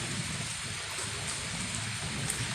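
Steady rain falling during a thunderstorm, an even hiss at moderate loudness for the whole stretch with no thunder clap and no talking.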